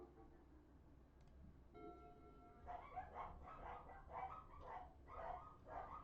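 Several dogs bark in repeated bursts at a moderate distance, a quiet, uneven chorus of woofs rising and falling over a faint background hum.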